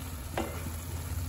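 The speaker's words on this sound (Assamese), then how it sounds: "এতিয়া মছলাখিনি অকণমান ভাজিবলৈ দিওঁ" Masala spices frying in a pan, a steady soft sizzle with a brief scrape of stirring partway through, close and continuous with no voices.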